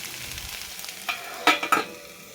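Curry leaves dropped into hot oil for a snake gourd and oilcake curry, giving a few short, close sizzling bursts and a light clatter against a quiet kitchen background, with no talk.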